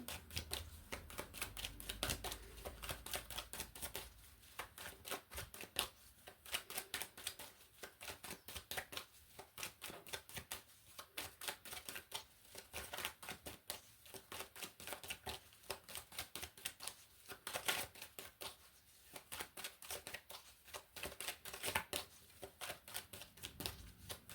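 Tarot cards being shuffled for a cross spread, a steady run of dense papery riffles and soft slaps that continues at an even pace for the whole stretch, fairly close and with no voices.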